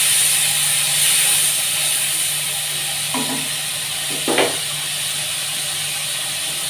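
Onions frying in a pot for mutton pulao, with a steady hiss of sizzling oil under a faint low hum. Two brief utensil scrapes come near the end, heard close with no talking.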